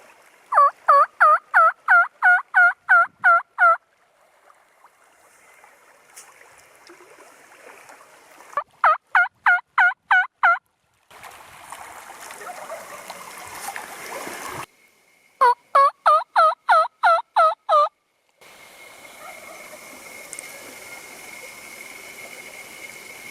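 Wild Merriam's turkeys gobble from across a river in Colorado at sunrise, loud rapid rattling bursts repeated in three clear bouts, with a steady rush of flowing water between them.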